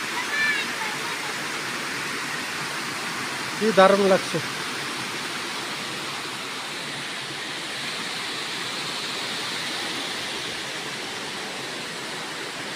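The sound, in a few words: waterfall seen from high above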